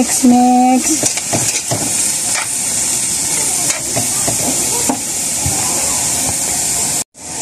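A spoon stirs adobo in a frying pan with a steady sizzle and repeated scraping strokes, close and fairly loud. A few short tones sound near the start, and the pan sound cuts off abruptly near the end.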